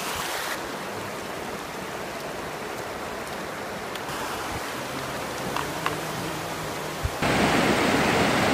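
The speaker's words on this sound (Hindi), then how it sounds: "एक दरिया इधर पीछे से आ रहा है" Swat River rushing at a confluence of two rivers beside a mosque, a dense, constant roar of flowing water, loud and close, with no one speaking.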